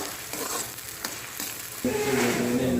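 Sausage fries in plenty of hot oil with a loud, steady sizzling hiss, interrupted by a few soft stirring clicks; the sizzle grows fuller and louder partway through.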